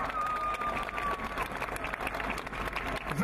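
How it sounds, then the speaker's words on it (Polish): Crowd applause at the Independence March rally in Poland, a dense, steady wash of clapping from a large gathering, continuous and fairly loud for the whole stretch with some cheering mixed in. "Wielkie brawa!"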